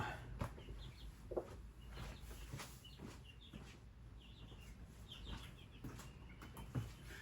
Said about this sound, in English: Chickens are joining us again, so that's all good.